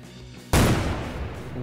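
Nitroglycerin detonates in the Garry's Mod video game: after a quiet moment a single sudden, loud blast erupts and rolls on as a rumbling, crackling decay.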